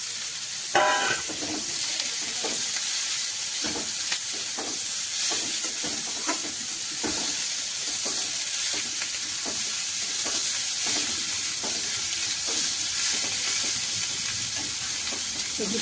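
Onion sizzling and frying steadily in a hot pan for a winter-vegetable pasta, a continuous close hiss broken by occasional stirring scrapes, with no talking.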